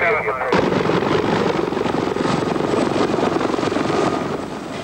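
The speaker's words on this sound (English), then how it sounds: "Navy helicopters inbound" Loud, steady thrum of Navy helicopter rotors and engines flying in after the 1989 Loma Prieta earthquake, continuous and close, with a brief radio-like tone at the very start.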